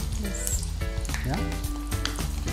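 Bitter gourds dropped into hot oil one at a time and frying for bellam kakarakaya, a steady close sizzle with clinks and shifting bubbling, a voice speaking over it.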